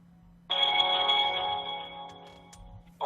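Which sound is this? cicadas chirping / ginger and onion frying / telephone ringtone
telephone ringtone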